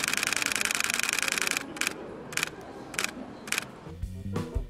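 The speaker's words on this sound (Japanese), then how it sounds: "次にライブビュー撮影時のシャッターオンです。" A Canon EOS 90D shooting continuously in live view inside a camera showroom: a fast, steady rattle of shutter clicks for about a second and a half, followed by four separate single clicks spaced apart, with faint room background.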